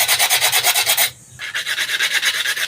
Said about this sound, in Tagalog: hinasa ko na nga rin ito para tumalim